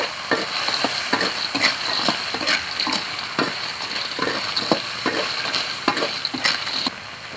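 Ginger and garlic stir-fried in a wok with bean paste: continuous hot sizzling broken by rhythmic scraping and tossing strokes of the spatula, close and fairly loud.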